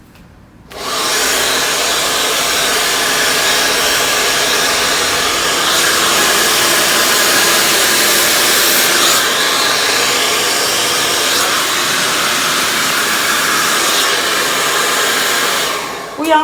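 A hair dryer switches on and blows continuously with a loud, steady airy whoosh, close by, shifting slightly as it moves while blow-drying hair straight.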